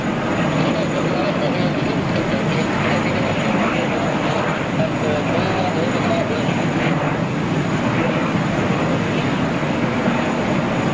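A Singapore Airlines jet airliner on departure passes overhead, a broad, continuous roar of engines that stays loud and steady throughout without any talk.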